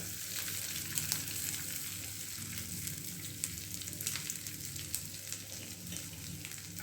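Rice and lemon juice stirred together in a hot pan, a steady close sizzle with faint scraping and stirring clicks throughout, no voices.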